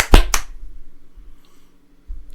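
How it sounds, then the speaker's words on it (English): Two sharp hand claps in quick succession at the start of a podcast recording, followed by a low steady hum and a faint click near the end. "Can we do a clap real quick?"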